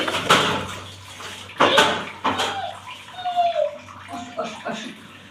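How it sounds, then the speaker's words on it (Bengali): A boot is washed with running water at home, heard as splashing and gushing water with clattering handling noises, while voices, including a child's, talk over it. "আমার বুটটা ধুয়ে নিচ্ছি।"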